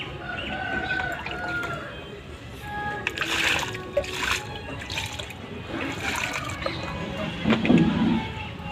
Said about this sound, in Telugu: వాటర్ వేస్తాను